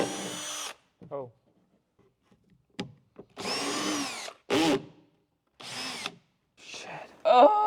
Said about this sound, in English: don't use the metal drill to drill a wood